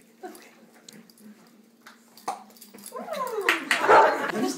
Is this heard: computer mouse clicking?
no